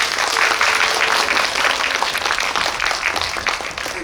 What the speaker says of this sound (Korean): 다시 한번 오늘 와주신 분들께 큰 박수 부탁드립니다